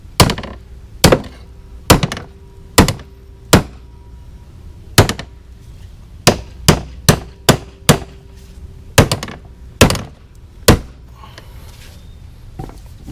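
A bent lawn mower blade is hammered straight with a series of sharp, loud metallic strikes, delivered in uneven bursts of single and quick repeated blows separated by short pauses.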